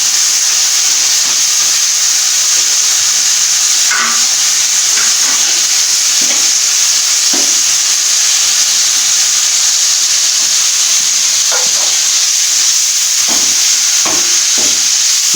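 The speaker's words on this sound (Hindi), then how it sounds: "इसको अच्छी तरह से भुनाई करेंगे तकरीबन 2 से 3 मिनट के लिए" Masala with green chilies and fresh coriander fries and is stirred in a pan for an aloo baingan dish: a constant loud, hissing sizzle with occasional spoon clinks and scrapes.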